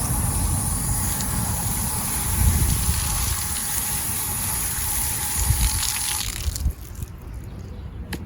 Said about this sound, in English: So I'm going to give it a little water.